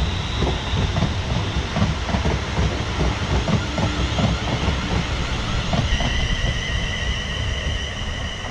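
A heavy freight train rumbles past steadily and close by, with rhythmic clattering wheels and a rising metallic squeal toward the end.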